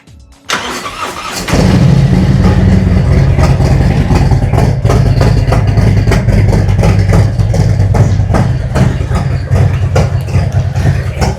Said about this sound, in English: So we'll start the bike.